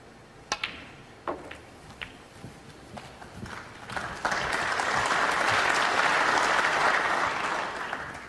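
At a World Grand Prix snooker match, a few sharp ball clicks and knocks on the table are followed by a swell of warm audience applause that builds and holds steady, fairly loud, then begins to fade.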